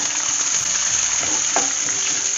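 Garlic and green chillies crackle in hot oil as the base for mint chutney, a dense, constant close sizzle with a few faint clinks, no talk.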